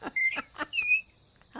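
A human voice imitates a cardinal's call, giving a short series of bright, clear whistled chirps and slurred notes over about a second and a half, close and fairly loud.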